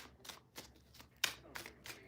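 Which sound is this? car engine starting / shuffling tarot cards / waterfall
shuffling tarot cards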